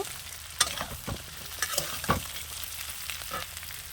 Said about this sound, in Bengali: এবার ভালো করে একসাথে কন্টি দিয়ে সব মিশিয়ে নেব